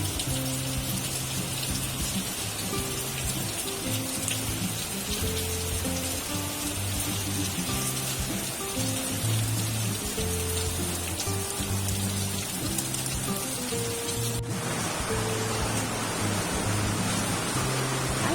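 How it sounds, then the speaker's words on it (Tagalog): Heavy typhoon rain pours down continuously with strong wind, a dense hiss of drops drumming on surfaces, with a muffled low thumping underneath throughout. "Ayan guys, napakalakas ng ulan."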